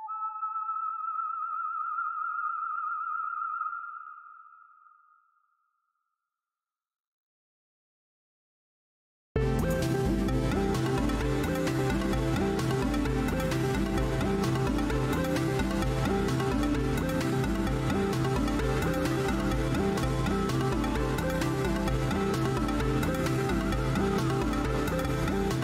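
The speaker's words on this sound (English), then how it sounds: "we'll extend this out so we get that nice long kind of spaceship sound" A long synthesized spaceship effect built in FL Studio: a sustained, dense electronic wash fills the second half at steady loudness after a brief tonal blip and several seconds of silence.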